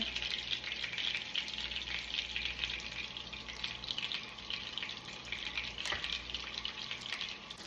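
Pork cutlets fry in oil and butter in a pan with a steady, dense sizzle and crackle that runs unbroken throughout, fairly quiet and close, with no talk over it.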